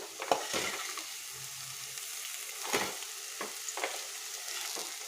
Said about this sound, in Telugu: బెల్లం మొత్తం ఈ ముక్కలకి కలిసిపోవాలి. అలా మనం ఫ్రై చేసుకుంటూ ఉండాలి.